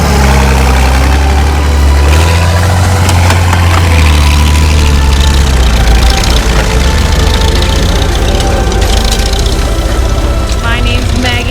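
Loud, steady tractor engines rumble and idle close by with a deep, continuous throb, some clattering mechanical noise on top, at a plow day.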